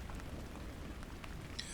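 Raindrops tap softly and continuously on a window, a faint, even patter with scattered small ticks, alone without voices.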